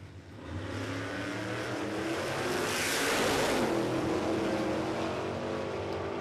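Pro Street Radials drag cars, one an old Chevy Nova, launch down the Warwick Dragway strip in Australia: a loud, sustained engine roar that swells to a peak midway and holds as the cars pull away.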